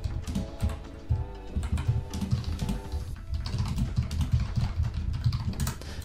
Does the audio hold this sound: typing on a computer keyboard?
yes